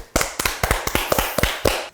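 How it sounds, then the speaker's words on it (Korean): Hands clap at a book-discussion talk show, about nine sharp, fairly even claps over two seconds, close and dry with no talking over them. "박수."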